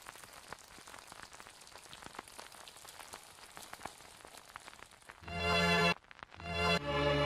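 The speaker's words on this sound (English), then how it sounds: "And there was rain. Let there be rain." Steady rain patters on a hard surface with scattered drops, then a loud, dense rush of noise swells near the end.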